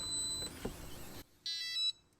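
A brief rustle of handling noise, then a quick series of high electronic beeps from a keyless RV door lock signalling it has locked rings out clearly, followed by quiet.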